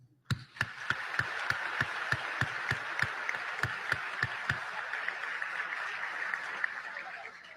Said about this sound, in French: À vous donc ce concert d'applaudissements